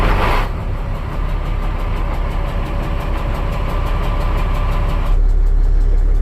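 A Kenworth truck engine idles steadily up close, a continuous low rumble with a regular pulsing throb that grows slightly louder near the end, with no voices.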